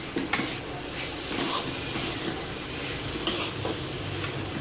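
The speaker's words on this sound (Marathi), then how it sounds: "आता 1-2 मिनटं आपण छान असं परतून घ्यायचं आहे." Dal sizzles gently in a pan while being stirred, a soft continuous hiss with occasional scraping clinks from the spoon. No one speaks.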